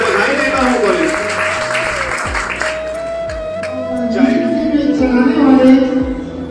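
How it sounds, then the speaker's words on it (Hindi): Applause from a college audience at a mobile phone distribution event greets the top-scoring female students, the clapping rising and swelling toward the end while a steady tone and voices carry through it. "मैं चाहता हूं आप सब तालियां बजाकर स्वागत करें"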